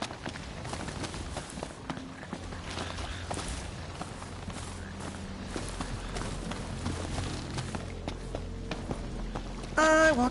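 A chocobo runs in Final Fantasy XV, its footfalls beating a quick, steady, clip-clop rhythm at moderate loudness over a busy game soundscape.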